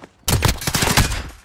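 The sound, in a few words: suppressed gunshot from video game Call of Duty: Modern Warfare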